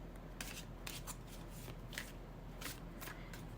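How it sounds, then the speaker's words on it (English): A tarot card deck being shuffled close up, with quick bursts of riffling and soft slapping cards repeating at an uneven rhythm, alone and fairly quiet. "Let's shuffle with intention first."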